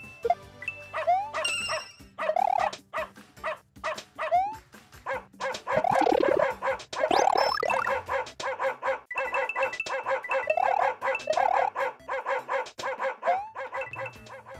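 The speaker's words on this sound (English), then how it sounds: "a Koopa hit out of its shell will make a barking noise, or make a meowing noise depending on its color in the Super Mario World style" Koopas knocked from their shells onto music blocks in a Super Mario World–style Super Mario Maker 2 level let out rapid, bouncy barks and yips, repeating rhythmically over chiming melodic game music, loud and upfront.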